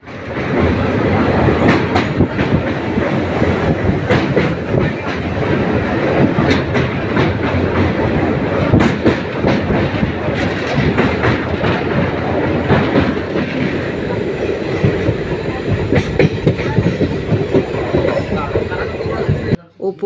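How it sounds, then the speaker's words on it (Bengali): A train rolls steadily along its rails, with continuous loud, close rattling and rhythmic clickety-clack of the wheels for nearly the whole stretch, plus occasional metallic squeals. There is no speech. "ট্রেনের কুঝিকঝিক আওয়াজ"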